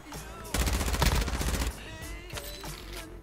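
A burst of rapid automatic gunfire, loud and close, lasts about a second amid game sound effects, followed by quieter scattered noises.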